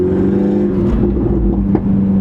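A 300 hp turbocharged Mini Cooper S accelerates hard, its engine giving a loud, close, steady droning roar with a whirring tone and a slight dip near the end, and no voices over it.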